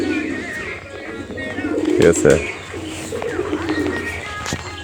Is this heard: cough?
no